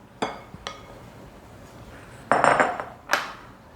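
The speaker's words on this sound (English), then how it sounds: "I'm going to stir these up" Dry ingredients being stirred into wet banana pecan bread batter: a few sharp clinks of a utensil against a bowl, then a brief burst of scraping and knocking, close and moderately loud with no talking.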